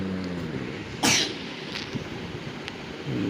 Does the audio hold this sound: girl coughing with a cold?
yes